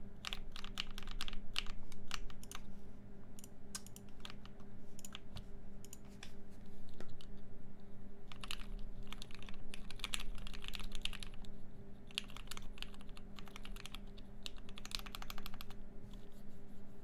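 Fast, steady clicking of a computer keyboard during a typing test, close and fairly quiet, with keystrokes coming in dense bursts over a low constant background hum and no talking.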